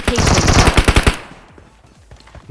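In a PUBG Mobile match, a loud, close burst of rapid automatic gunfire lasts about a second, then drops to quiet background rustle.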